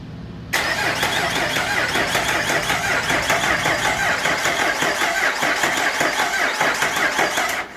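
A car engine cranks for several seconds, a loud rapid chugging rhythm that starts abruptly and keeps turning over without catching before cutting off, close up with no talking.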